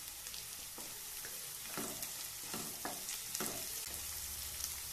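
Finely chopped beans fry in oil in a pan for masala oats, with a steady sizzle and a run of spatula stirs and scrapes at a close, moderate level. No one speaks.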